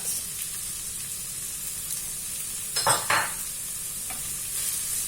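Onion and shallot sauté in a pan for a chicken curry, a quiet, steady sizzle broken by a brief louder burst of stirring near the middle, with no talk.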